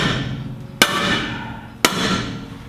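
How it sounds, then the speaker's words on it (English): A sledgehammer strikes the edge of a universal joint yoke on a disconnected vehicle driveline, two sharp metallic bangs about a second apart, each ringing and fading, close and loud. "take the sledgehammer, get the driveline disconnected first"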